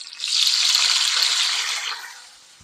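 Watery cherry tomatoes hit hot cooking oil and sizzle in a loud, steady hiss that swells quickly and then fades out over a couple of seconds, with no talking.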